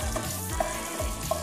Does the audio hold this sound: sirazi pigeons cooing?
no